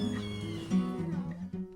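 A young kitten under eight weeks old gives a string of close, insistent meows, rising and falling in pitch with short breaks between cries.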